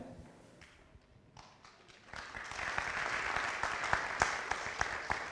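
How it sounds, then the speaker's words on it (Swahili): Crowd applause at a music launch event, starting as light scattered clapping and swelling after a couple of seconds into loud, sustained clapping from a sizable audience, with occasional sharper claps standing out. "Let's clap for her as she comes."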